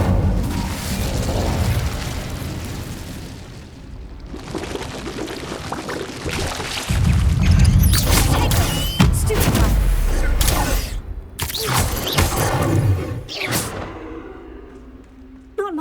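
Incendio, the fire spell in Hogwarts Legacy, casts as loud bursts of game combat sound: booming whooshes and sharp pops over a dense, continuous din, with a heavy swell midway and several abrupt blasts in the later seconds.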